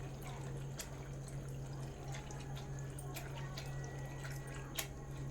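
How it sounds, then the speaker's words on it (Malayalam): Water is poured into sago dough, giving soft drips and small splashes over a constant low hum, with no talking. "ഇനി നമുക്ക് കുറച്ച് വെള്ളവും കൂടെ ഒഴിച്ചു കൊടുക്കാം"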